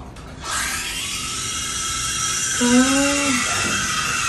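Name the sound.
howling sound of espresso machine steam wand frothing milk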